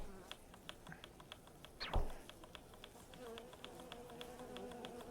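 Bees buzz in the video game Omori, a steady insect drone with rapid regular clicking pulses, broken midway by a single sharp falling swoosh, with no music behind it.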